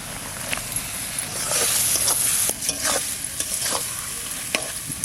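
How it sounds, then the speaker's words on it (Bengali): Fried pointed gourd pieces added to a pan with poppy seed and mustard-chili paste, giving a hissing sizzle with repeated scraping and stirring clatter, close and fairly loud, no talk. "ভাজা পটলটা এবার দিয়ে দিচ্ছি।"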